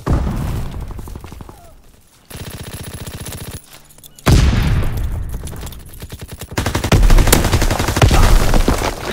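Gunfire from a strafing run in Call of Duty: WWII multiplayer domination on the Shipment 1944 map, loud bursts of rapid automatic fire broken by brief quieter gaps, with dense battle noise and no talk.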